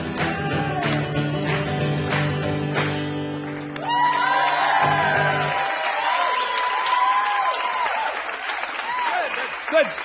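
A live audience claps steadily at a comedy quiz show, dense applause under held music at first, then continuing with a voice speaking over it.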